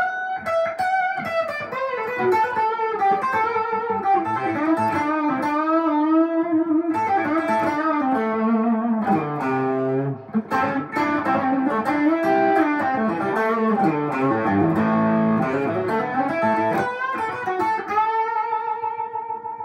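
A Collings I-30 LC electric guitar on its P90 bridge pickup, driven through a Tube Screamer overdrive, plays a run of sustained, singing distorted notes and melodic phrases, loud and up close with no talking.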